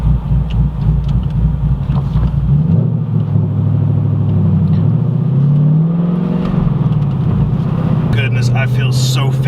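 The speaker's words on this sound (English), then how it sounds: "Alright, so that's the startup. It's kind of a cold start." A Ford Mustang S550 with a ghost cam tune rumbles through a cold start, its engine settling into a deep, loping idle with a slight rise in pitch, close and loud throughout.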